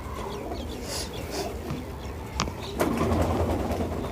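A crossbred female pigeon coos among other fowl in a short, busy stretch of bird calls with a couple of sharp clicks over steady background noise.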